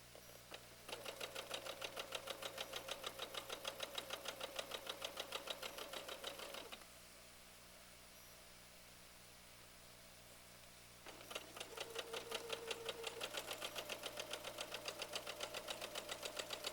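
A sewing machine stitches a quilt block just inside a triangle, its needle chattering in rapid, steady bursts, pausing for about four seconds before running again, close and alone.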